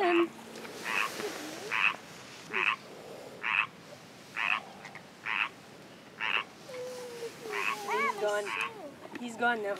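Small green frogs at Isobel Lake near Kamloops, British Columbia, croak in a regular series of short, evenly spaced calls about every half second, fairly close and clear over light background noise, with faint human voices in the later part.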